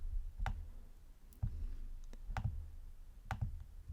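Sparse, light clicks of keys being pressed on a computer keyboard while text is typed, a handful of quiet taps spaced about a second apart in a calm room.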